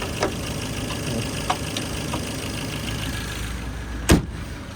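An automatic first-generation Ford Focus idles with a low, steady engine hum, several faint clicks and knocks, and a car door thumping shut near the end.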